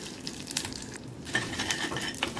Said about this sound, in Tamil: இப்போ நம்ம ஃப்ரை பண்ணி வச்சுருந்த வெண்டைக்காவையும் இதோட சேர்த்துக்கிறணும்